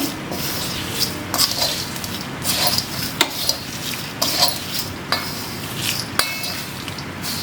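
A spoon rasps and clinks against a pan while poha chivda is tossed with the stove off. Dry scraping and light metallic taps repeat in an irregular rhythm, close and moderately loud.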